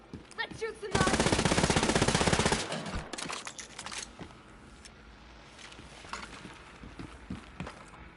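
Video-game gunfire while shooting Nazis: a sustained, loud burst of rapid automatic fire lasting a couple of seconds, then scattered single shots and clatter with distant background noise.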